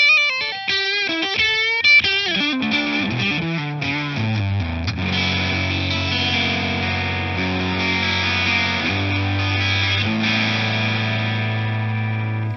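An electric guitar run through a free guitar plugin with added reverb plays a clean to slightly crunchy bluesy phrase, quick picked notes settling into sustained ringing chords, loud and alone with a washy tail.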